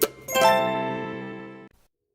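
A notification bell sound effect gives a soft pop followed by a bright ringing ding that sustains clearly and stops abruptly.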